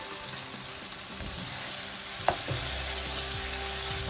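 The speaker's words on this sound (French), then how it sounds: "Laissez rousser un petit peu de ces épices." Curry spices fry in a pot for a Mauritian liver, heart and kidney curry, a faint steady sizzle with a single sharp clink of a utensil partway through.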